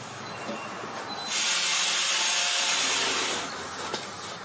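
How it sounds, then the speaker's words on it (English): A grinder working rusty metal to clean it for welding, a close, steady abrasive whir that swells louder for a couple of seconds in the middle before settling back. "So I just used a grinder and my shirt and rubbed it a bunch of times until a decent amount of rust came off."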